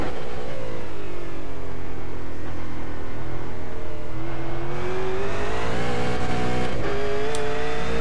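A 600hp V8 race car in iRacing at Oran Park, engine droning steadily and then rising in pitch as it accelerates, loud and continuous with no voices.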